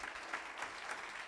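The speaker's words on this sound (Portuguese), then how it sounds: "Vamos aplaudir ao Senhor pela vida dele." Church congregation applauding together in a brief, dense burst of steady clapping heard from within the room.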